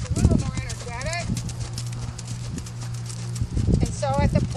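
A horse's hooves clip-clop at a lively gait through a pole maze while a rider speaks over them, the footfalls close and rhythmic with a steady hum underneath.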